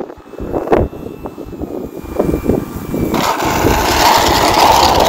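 FMS Pitts V2 1400mm RC biplane flying in to land outdoors on a chilly sunny day, its electric motor buzzing and whining as it nears, growing louder and steadier toward the end with wind noise.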